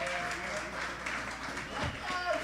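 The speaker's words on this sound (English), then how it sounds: "Mr. Carl Jacobs, can I have a round of applause?" A short burst of audience applause at an evening event, steady and moderately loud, with some voices mixed in underneath.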